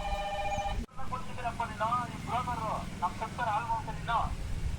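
A telephone rings with a steady warbling electronic tone, starting after a brief cut and repeating through the clip, with people talking over it and under it.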